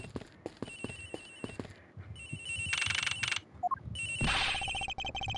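A telephone rings in the Ace Attorney Investigations video game during a scene aboard an airplane. Bright electronic ring bursts repeat, following soft clicks and taps.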